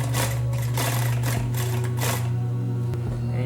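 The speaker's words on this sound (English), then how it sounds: "you want to stitch right into that crack there" Sewing machine stitching fabric in a sewing studio, a close, loud continuous motor hum with rapid needle chatter running throughout.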